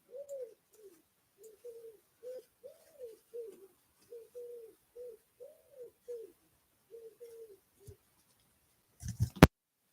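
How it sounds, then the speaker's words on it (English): Soft repeated coos from a dove or pigeon in a steady series, moderately close, ending with a couple of brief clattering knocks. "Can you hear the birds in my mic?"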